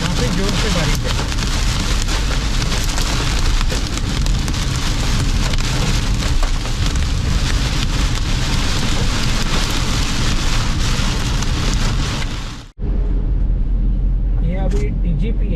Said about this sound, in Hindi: काफ़ी जोर से बारिश है।